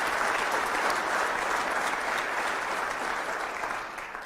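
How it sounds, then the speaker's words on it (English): Steady applause from the audience at the 2014 State of the City Address in Grande Prairie, Alberta, a dense, even wash of many hands that holds for several seconds and eases slightly at the end. "Please give them a round of applause."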